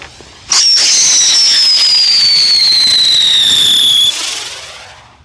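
A Great American Space Capsule aerial spinner firework launches outdoors with an abrupt start and a loud, piercing whistle that falls steadily in pitch for about three and a half seconds before cutting off.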